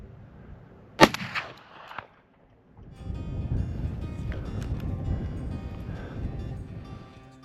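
A single shotgun blast fired while hunting mule deer in open Montana country, one sharp loud crack with a brief echo, followed by wind and rustling movement.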